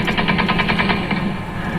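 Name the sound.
gunfire at Kabul airport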